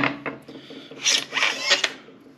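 A Benelli M4 shotgun's magazine cap is twisted off by hand, giving a few close, short rasping scrapes and rubs of metal that swell and fade in quick bursts.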